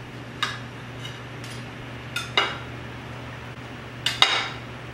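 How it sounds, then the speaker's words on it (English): A knife and fork cut a slice of bacon-wrapped zucchini topped with tomato and cheese on a plate, giving a few sharp clinks and scrapes of cutlery against the dish, spaced out over a steady low hum. "So now I'll cut a slice."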